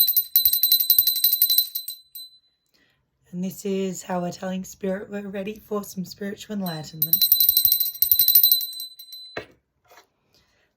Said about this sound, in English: we're going to start the readings off from now on by ringing the bell